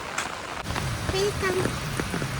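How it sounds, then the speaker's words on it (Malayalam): Light drizzling rain falls on a road near a bridge, a steady soft hiss running through the whole moment while voices talk over it. "ഇപ്പോൾ ചെറിയ ചാറ്റൽ മഴയുള്ളൂ"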